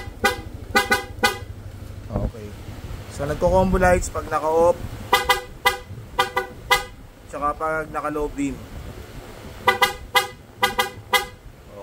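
Short bursts from a PIA aftermarket horn on a Honda Click160 scooter, several quick double and triple toots spread across the clip, close and sharp, with someone talking between the honks.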